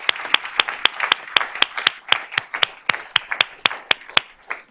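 An audience at a school board of trustees meeting gives a short round of applause: distinct, evenly spaced hand claps, fairly close, with no talking over them.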